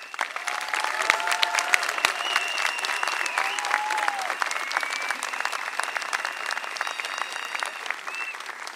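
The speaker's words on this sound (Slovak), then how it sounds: "prosíme vás, aby ste nešetrili dlaňami a pozdravili všetkých našich umelcov veľkým potleskom" Sustained audience applause for the performers at a cultural theatre evening in Padina, a dense wash of many hands clapping steadily and fairly loud, with scattered voices and whistles mixed in, no one speaking over it.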